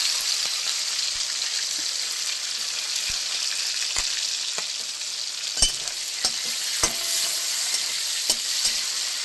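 Tomatoes and green chillies frying in hot oil with nigella seeds make a steady, bright hiss and sizzle, broken by scattered sharp pops and crackles spread over the whole stretch.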